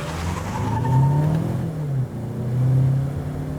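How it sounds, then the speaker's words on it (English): A 2019 Mazda 6 Signature sedan accelerates hard from a standstill toward 100 km/h, its engine note rising and falling through gear changes, loud and close with no talk. "We'll do like a 0 to 100 kilometer an hour test right here."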